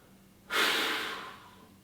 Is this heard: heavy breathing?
yes